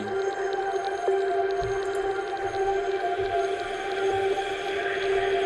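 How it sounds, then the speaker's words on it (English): Layered Omnisphere synthesizer atmosphere pads hold steady, sustained tones with a shimmering high wash and low rumbling undertone, fairly loud and continuous, with no speech over them. "It's like a ton of atmospheres and stuff you can see."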